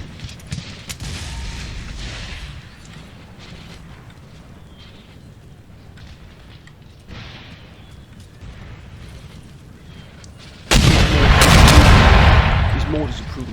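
Mortar and gunfire rumble through a large Empire: Total War battle with Great Britain's 2,500 troops facing 15,500. A steady din of distant shots underlies it, and a much louder, dense burst of firing erupts near the end.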